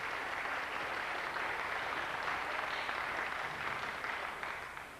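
Applause from a concert audience at a memorial concert fills the room after a young fiddle class from Roslea performs, a dense, continuous clapping that stays steady and then begins to taper off.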